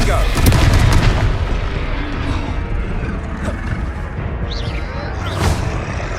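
Confringo spell blasts in Hogwarts Legacy land as deep booming explosions with rumbling low end, several impacts over six seconds, loud and close amid battle noise.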